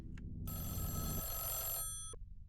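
A telephone rings inside the horror video game Mothered, a steady electronic trill lasting about a second and a half, with short game noises before and after and no voices.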